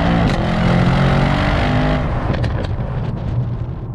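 A Mercedes-AMG S63 in Sport Plus mode accelerates hard on an open road. Its engine roars loud and steady throughout, with a brief shift or pop partway through.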